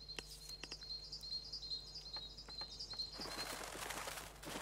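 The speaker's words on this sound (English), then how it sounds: "Be gone, birds." Birds in the video game Little Misfortune chirp in thin, high repeated calls over a faint hum, then burst into a rush of flapping wings near the end, fairly quiet and with no talking.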